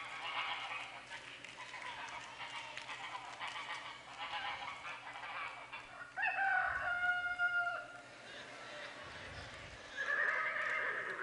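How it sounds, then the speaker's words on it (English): A horse neighs and whinnies loudly in several drawn-out calls mixed with other animal sounds, over a low background murmur. "The horse."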